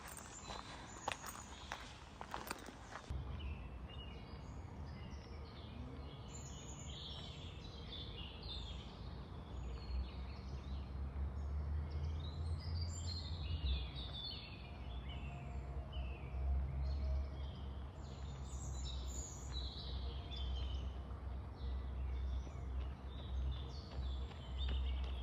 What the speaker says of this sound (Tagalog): yung tunog ng mga ibon sobrang ganda pakinggan